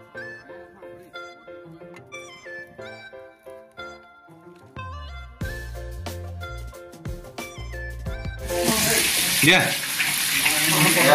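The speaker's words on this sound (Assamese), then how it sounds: "আমাৰ মাছ এতিয়া ফ্ৰাই হৈ আছে ফ্ৰাই কৰি থকা হৈছে" Fish frying in a pan for a home-cooked village meal, a steady hiss and crackle of oil that swells louder toward the end, with clattering and other layered sounds along the way.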